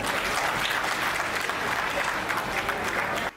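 Audience at a Hindi poetry recital bursts into loud, dense applause, a sustained wash of many hands clapping that cuts off abruptly at the end.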